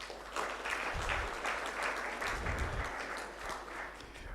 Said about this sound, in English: A round of applause to DG.